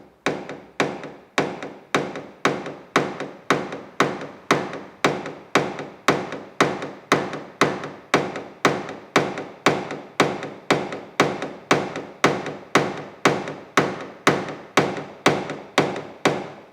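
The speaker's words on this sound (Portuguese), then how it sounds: "Deixa eu pegar aqui o martelo. Vou ter que bater aqui." A hammer taps out a dent in a car body panel during paintless dent repair, striking about twice a second in a long, steady series of sharp, close knocks with no talking.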